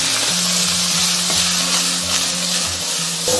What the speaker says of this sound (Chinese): 先把这些配菜的香味全部给它炒出来。